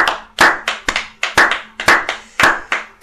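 A church congregation clapping in unison to acclaim the Lord during a French-language Pentecost service, sharp rhythmic hand claps in a steady double-beat pattern, close and clear with no talk.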